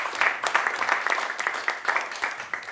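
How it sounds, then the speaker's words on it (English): Audience applause at a live pain-education event, a steady patter of many hands clapping at moderate volume, with faint voices mixed in throughout. "Keep clapping. There we go."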